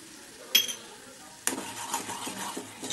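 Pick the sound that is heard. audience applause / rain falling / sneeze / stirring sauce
stirring sauce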